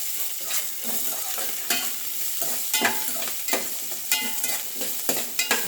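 Vegetables fry in a pan for foxtail millet khichdi, sizzling softly under repeated stirring scrapes heard close up.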